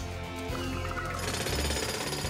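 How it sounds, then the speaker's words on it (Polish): A cartoon jackhammer in a Paw Patrol rescue scene pounds loudly and continuously in rapid, driving bursts that fill the whole stretch, close and unbroken, with no talking over it. "Młot pneumatyczny!"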